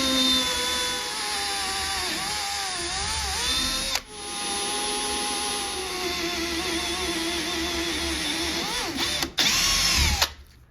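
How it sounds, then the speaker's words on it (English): A power drill whines steadily at close range, drilling holes in aluminum, its pitch dipping and rising as the bit bites into the metal, with brief stops near the end. "take our drill bit and drill out these holes"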